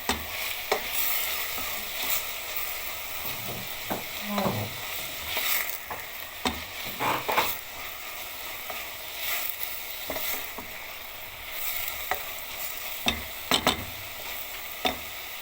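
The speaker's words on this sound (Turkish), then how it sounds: "soğanlar kavrulduktan sonra turşular ilave ettim" Pickles fry with sautéed onions in a pan, a steady close sizzle broken by frequent stirring scrapes and clinks of the spoon against the pan, with no talk.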